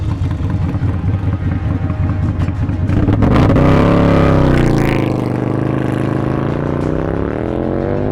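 A race bagger motorcycle at Bonneville, built for 196 mph runs, roars loudly and continuously, its engine pitch climbing and sweeping as it accelerates, with no talk over it.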